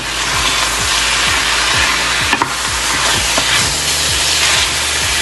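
A wooden spoon scrapes and stirs tallow in a hot pan, repeated strokes over a constant sizzle and hiss, close up with no talk.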